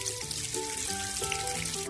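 Water running and splashing while fish are rinsed and rubbed by hand, a close, continuous trickle with small sloshes and drips, fairly quiet and without talk.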